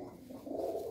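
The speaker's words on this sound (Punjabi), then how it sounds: "ਕਾਲਸਰਾ ਕਬੂਤਰ ਆ, ਖਟੀਆਂ ਅੱਖਾਂ ਦਾ" A Kalsara pigeon about ten years old gives a single short, soft coo, faint and close, lasting under a second.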